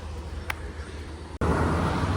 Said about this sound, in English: It's my air conditioner running because it's hot.